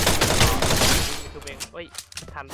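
Rapid gunfire in the Free Fire battle royale game crackles in dense, loud bursts for about a second, then fades as a person starts talking over sparse game noises.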